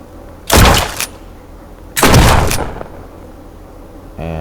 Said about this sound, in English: I guess we can shoot.